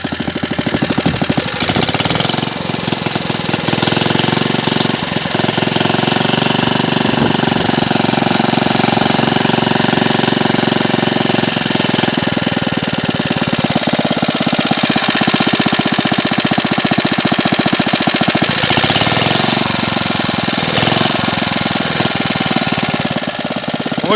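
An old Bernard W19A engine runs steadily after an ignition overhaul, a loud, close, rapid chugging and rattling that keeps up without letting off for the whole stretch, with no one talking.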